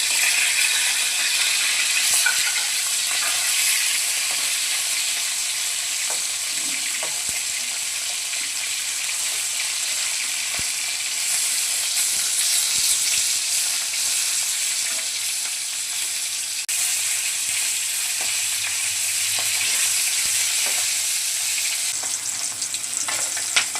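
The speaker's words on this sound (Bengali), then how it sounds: "মাছ ভাজা হয়ে গেছে, নামিয়ে নিচ্ছি" Pieces of rohu fish fry in hot oil in a home kitchen, giving a steady, bright sizzle that holds throughout without talk.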